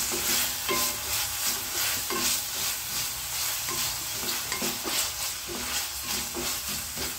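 Vegetables sauté in a pan for catering-style cooking. A steady sizzle runs underneath while stirring strokes scrape and clatter in a regular rhythm, about one every second, close and moderately loud.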